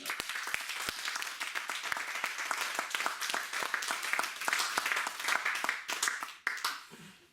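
A church congregation claps together in praise during a worship service, lively rhythmic applause filling the hall at a steady level, with no talk over it.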